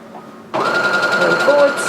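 A Brother SE400 embroidery sewing machine, stuck in reverse, starts up abruptly and runs in a steady, loud mechanical whir with a faint rhythmic clatter, close by and alone.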